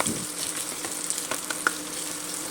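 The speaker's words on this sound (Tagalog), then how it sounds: "Napakabango niya kapag ginigisa yung bawang at saka yung sibuyas." Garlic and onion sauté in a pan with a soft, faint crackling sizzle, dotted with a few small ticks and pops from the oil.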